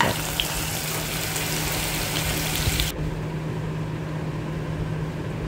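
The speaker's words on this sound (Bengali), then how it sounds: "তো আলুটাকে ভালো করে একটুখানি ভেজে নেবো" Potatoes frying in oil with salt, a dense close sizzle that runs loud and steady, then drops sharply in brightness near the end to a lower, duller frying hiss.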